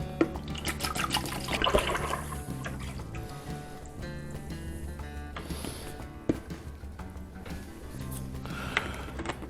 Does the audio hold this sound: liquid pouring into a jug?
yes